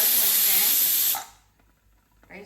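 A pressure cooker holding rice and dal lets out a loud, close, steady steam hiss for about a second, then it cuts off, leaving quiet kitchen noise and a faint voice.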